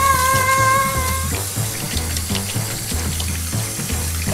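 Water running from a garden hose at a kids' car wash, a steady watery rush under a bright tonal jingle that fades after a second, with rhythmic low thumps of background music throughout.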